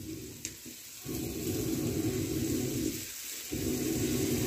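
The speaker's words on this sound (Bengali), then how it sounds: "এবার এটাকে ভালো করে কষানো হবে।" Curry masala with ground cumin sizzling as it is sautéed in a pan, a continuous close frying hiss broken by two brief pauses and a faint clink.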